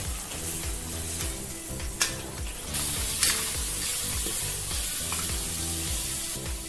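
Turmeric, ground coriander and red chilli powder fry in oil with onions for chole, giving a steady close sizzle with a few stirring scrapes, over a faint low musical hum.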